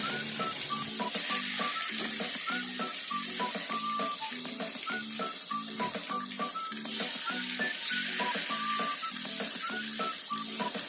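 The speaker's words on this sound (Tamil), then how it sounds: "நம்ம பிரட்டி வச்சுருந்த சில்லியை எடுத்து இப்போ எண்ணெயில் போட போகிறோம்." Coated potato pieces for potato 65 fry in hot oil, a continuous dense sizzle with rhythmic bubbling pulses that stays steady and close throughout, with no voices.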